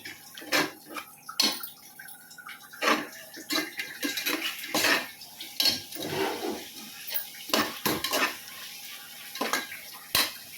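A metal spoon scrapes and clinks against a pot as chicken is stirred with ginger garlic paste, giving irregular sharp knocks and brief scraping between quieter stretches.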